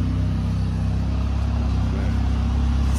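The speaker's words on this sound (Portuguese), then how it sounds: "Lá vai a McLaren mais rápida vendida pela história da Diamond Motors" McLaren sports car driving off, a steady low engine rumble holding at one level throughout, with no talk over it.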